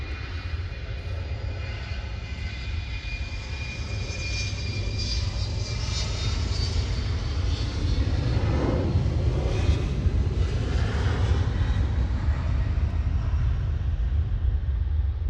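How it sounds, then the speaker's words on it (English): LOT Embraer E195 jet departing for Warsaw, its engine roar rising gradually from a distant rumble to a fuller, louder whoosh by the end, with no voices. "It's the lot E195. Flying back to Warsaw."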